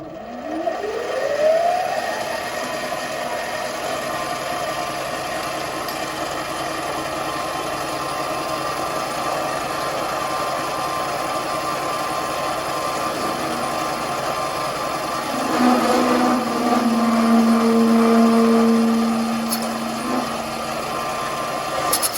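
A mini metal lathe motor spins up with a rising whine, then holds a steady hum at around 1200 to 1500 RPM, with a brief louder cutting tone partway through.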